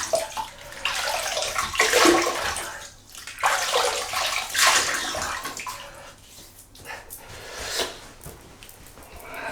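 Water splashed by hand onto a face to wet it before a double-edge razor shave, coming as a series of loud, close, wet sloshing bursts with short pauses, with no talk.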